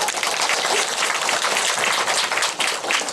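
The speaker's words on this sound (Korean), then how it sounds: "박수." An audience at a retreat house applauds, producing a dense, steady burst of clapping that lasts about three seconds.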